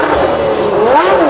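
Alain Prost's 1990 Formula One car screams past at high revs, a loud rising and falling engine wail over about a second and a half.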